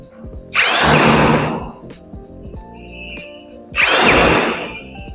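A power drill drives bolts into the panels of a two-door wardrobe. Two loud whirring bursts of about three seconds each are separated by a quieter pause with faint clicks and handling noise.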